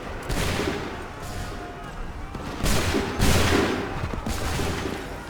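A massed volley of musket gunfire bursts out in Assassin's Creed 3, several loud overlapping blasts with rolling booms in quick succession, up close and dense, with no talk over it.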